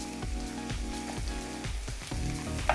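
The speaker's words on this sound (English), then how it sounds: "What I want to do now is cook the vegetables off." Vegetables for a hot pot fry in a pan with a continuous crackling sizzle, close and steady, broken by light rhythmic stirring scrapes.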